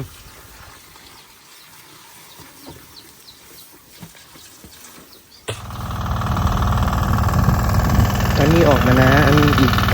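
A water pump engine beside a rice-field canal on a cattle farm starts abruptly about halfway through and then runs loud and steady up close; before it starts there are only faint outdoor sounds, and a voice may be heard over the running engine.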